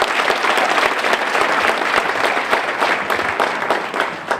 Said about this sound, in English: give them a tremendous round of applause